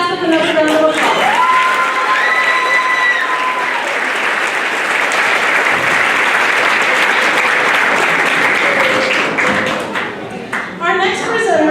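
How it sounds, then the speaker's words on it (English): A school auditorium audience applauds a seventh-grade award recipient at a middle school academic awards ceremony: loud, dense, sustained clapping with some cheering. Tones and a brief voice come through near the start, and the clapping thins out at the very end. "Let's give Jasmine another round of applause."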